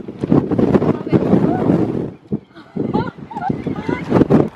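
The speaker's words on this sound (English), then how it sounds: "This is how windy it is." Strong wind buffets the microphone in heavy rumbling gusts in Malta, with people talking over it throughout.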